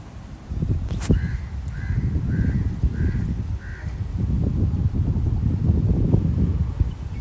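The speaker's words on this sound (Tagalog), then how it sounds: "oh, mahangin talaga" Steady gusting wind buffets the microphone with a low rumble throughout, while a crow caws several times in a row early on.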